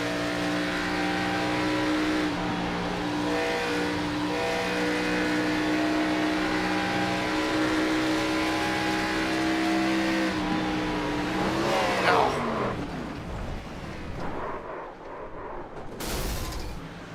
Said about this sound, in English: the engine blowing up happens to you there